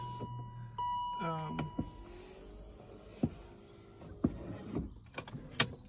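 A small electric motor whirs steadily as the rear sunshade of a BMW E39 rises, followed by a few soft clicks and thumps nearby.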